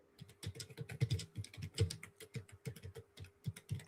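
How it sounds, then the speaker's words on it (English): Fingers type quickly on a computer keyboard, a dense run of soft irregular clicks and key taps that continues for several seconds at close range with a faint steady hum behind it and no voices. "Sorry, I'm mid typing."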